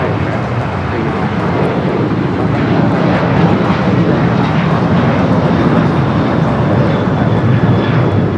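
A China Airlines Boeing 777 cargo jet touching down on the south side at LAX, its engine roar a steady, loud, broadband rumble lasting throughout with no pause.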